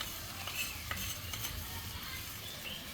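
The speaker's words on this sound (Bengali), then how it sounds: "শাক সিদ্ধ হয়ে গেছে, এবার মাছ দিয়ে দিব, ভাজা চিংড়ি দিয়ে দিব।" Fried small shrimp stirred into boiled water spinach in a pan make a soft sizzle under repeated scraping and stirring strokes, with a few light utensil clicks and no talk.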